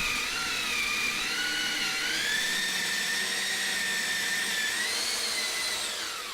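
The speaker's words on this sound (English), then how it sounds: "I'm going ahead and actually drilling the frame joint bracket holes here" Power drill boring bracket holes in a wooden dance pad frame, a steady high whine held for several seconds with slight pitch shifts as the bit works through the wood, close and alone.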